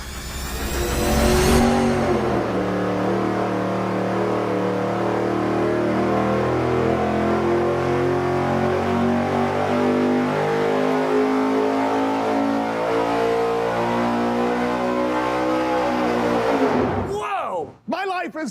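A V8 engine with dual four-barrel carburetors on a tunnel ram intake and EFI pulls hard on a dyno, a loud, sustained roar rising through the revs for most of the run before cutting off abruptly near the end.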